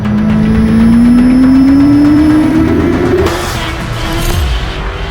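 A 2017 Suzuki GSX-R1000 sport motorcycle engine revs loudly and close, its pitch climbing steadily for about three seconds before dropping off, then settling into a lower running note.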